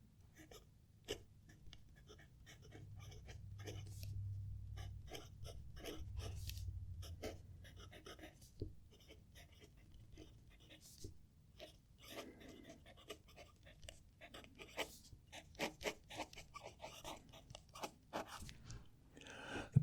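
A fountain pen nib scratches across paper in soft, close strokes with an irregular rhythm, faint and dry, with a brief low hum of background noise in the first few seconds.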